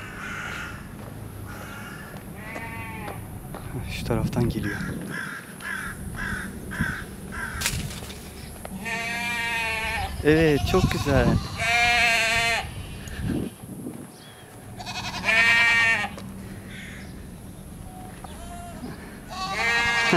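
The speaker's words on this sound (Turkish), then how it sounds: "kuzu sesi gibi ama." Lambs or sheep bleat in repeated wavering calls from a nearby animal pen on the grounds of a school on Heybeliada island, with crow-like caws mixed in and people talking quietly between calls.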